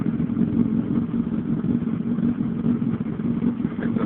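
A Honda CBR1000RR sport motorcycle with a new Varana Moto aftermarket exhaust idles nearby, a steady, throbbing low rumble that holds even throughout.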